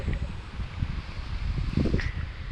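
Strong cold north wind blowing beside the water, a rough buffeting rumble battering the microphone with gusty swells throughout.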